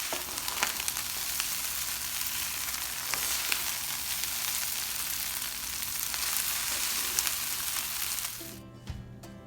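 Cooked ingredients stirred into fried rice in a hot pan give a steady, loud sizzle and crackle with small scraping bursts, and the sound cuts off near the end.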